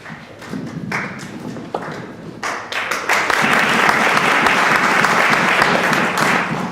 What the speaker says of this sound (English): Always clap first, because you may not clap at the end.